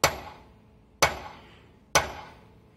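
Three heavy hammer blows on metal in a welding and metalworking shop, each a sharp ringing strike spaced about a second apart and decaying between hits, close and loud with no talking.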